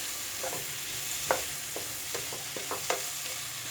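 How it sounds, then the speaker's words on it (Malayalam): Chopped tomatoes sauté in a pan for a potato and capsicum dry curry, a steady close sizzle broken by several sharp scraping strokes of a spoon, with no talking. "ഈ തക്കാളി ഇതിൽ കിടന്നിട്ട് നന്നായിട്ടൊന്ന് വഴന്ന് ഒന്ന് മേശാവണം"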